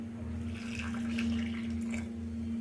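Water pours into a pot of hot water in a soft, continuous splashing stream over a steady electrical hum, close by and fairly quiet.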